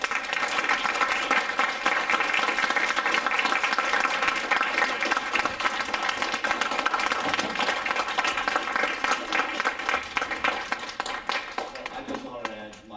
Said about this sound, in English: So I think we owe them a huge round of applause.